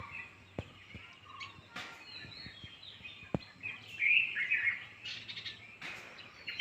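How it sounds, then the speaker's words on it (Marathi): Birds call and chirp outdoors, with scattered sharp notes and a louder burst of calls midway, over a quiet background. "पाखरांचा आवाज बघा"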